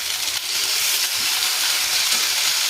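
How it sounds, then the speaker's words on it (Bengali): Potatoes tipped into hot oil with onion and dried chilli give off a loud, steady frying sizzle and hiss that runs unbroken from start to finish, close to the mic, with no talk. "এটাকে আগে পেঁয়াজ তেলের মধ্যে আর শুকনো লঙ্কা। এবার আলুটা আমি ঢেলে দিলাম।"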